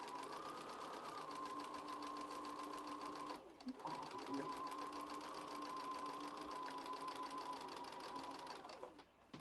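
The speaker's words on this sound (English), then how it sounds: "I'm going to start stitching all the way at the seam allowance and then just come across." A sewing machine stitching fabric for foundation paper piecing, running in a fast continuous whir with a brief pause partway through before starting again, close and steady.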